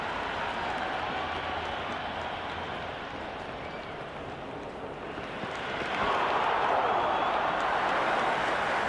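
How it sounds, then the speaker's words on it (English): A stadium crowd in the Cricket 26 video game, Pakistan vs New Zealand, roars as a continuous dense wash of cheering and applause that swells louder partway through. "The crowd is electric right now."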